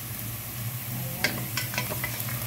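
Cinnamon stick, dried lemon and cardamom sizzle in hot oil while being stirred, with a steady frying hiss and a few scraping clinks of the spoon in the pan.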